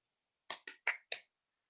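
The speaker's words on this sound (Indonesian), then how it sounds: "tepuk tangan dulu buat Risma" Applause in a classroom for a pupil, only four sharp separate claps in quick succession, close and quiet, with silence before and after.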